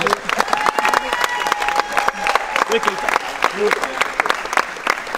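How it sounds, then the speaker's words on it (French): Applause and cheering from a crowd honouring the regional elite badminton champions at the Occitanie championship in Limoux: dense, steady clapping that carries on throughout, with a voice talking over it. "On les applaudit bien fort."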